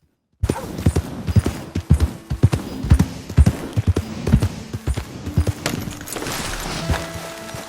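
Video-game horse hooves of an Iron Grey Ardennes clip-clop steadily at a walking rhythm in Red Dead Redemption 2, close and clear, with a few softer thuds and faint background tones behind them.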